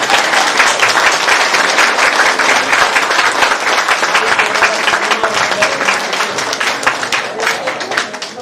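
A crowd applauds loudly at the inauguration of a village cultural center in Talpa, Romania, with sustained dense clapping close by throughout and faint voices beneath.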